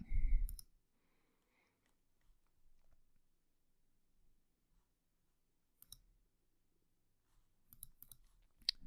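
Computer mouse clicks while running a database query in a debugger: a heavier click burst at the start, then scattered soft clicks and a closing flurry, all fairly close and without speech.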